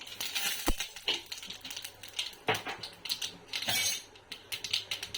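Mustard seeds and cumin spluttering in hot coconut oil in a home kitchen pan, a quiet scatter of sharp crackles and pops in irregular bursts, close and faint with no talk.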